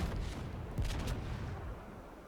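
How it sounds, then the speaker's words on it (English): Ship guns firing in World of Warships during a ranked battle aboard the USS Texas, a dense rolling volley of booming shots that stays loud and sustained throughout, with no talk over it. "So get the guns reloaded and start putting some fire into that Congo."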